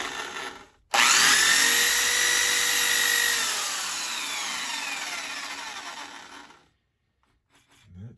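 A power drill on a 3-in-1 mill lathe starts abruptly and whines steadily for several seconds, drilling a pilot hole into metal for a 5/16 tap with a high grinding scrape, then winds down and stops.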